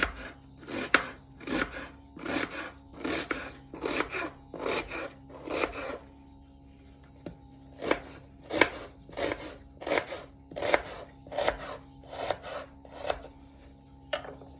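A knife chops through onion on a board in quick rhythmic bursts of strokes, pausing briefly midway before resuming.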